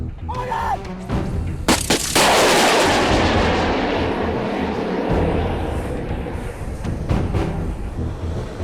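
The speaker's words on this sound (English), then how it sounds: "Immediately after launching a missile, the air defense squad moves to its next firing position." An air defence squad's missile launch: a sharp loud blast around two seconds in, followed by a long, roaring rush of broadband noise that slowly fades over several seconds, with a few smaller thuds earlier and later.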